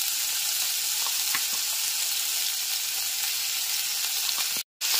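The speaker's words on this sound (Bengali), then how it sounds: "গ্যাসের ফ্লেমটা মিডিয়ামে রেখে আদা রসুন বাটাটা 2 মিনিটের জন্য ভেজে নিতে হবে।" Ginger-garlic paste frying in oil over a medium flame for Gondhoraj chicken, a constant loud hiss of sizzling with a few faint stirring taps, broken by a brief silent gap near the end.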